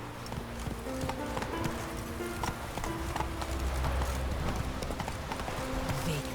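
Hooves of Roach, the horse in the video game The Witcher 3, clip-clop in a quick, steady galloping rhythm, close and continuous, with faint game sounds underneath.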